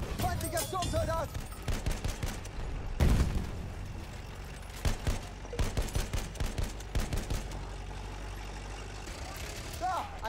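Enemy machine gun fire in the video game Battlefield 1, bursts of rapid cracking shots over a rumbling vehicle engine, with a loud thump near the middle and a voice speaking over the action.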